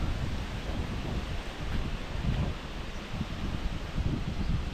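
Steady, gusty wind before a storm roars and buffets, with rustling like leaves tossing, continuous and fairly loud throughout.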